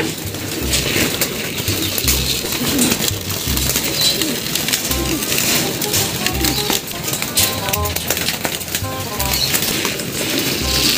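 Pigeons coo in low, repeated throaty calls amid a busy flock, with rustling and scattered pecking sounds close by.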